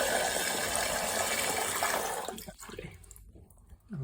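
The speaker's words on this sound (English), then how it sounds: "So just gonna add some water." Tap water pours into a pot of rice in a home kitchen, a steady rushing splash for about two seconds that then cuts off, leaving a few faint drips and small clinks.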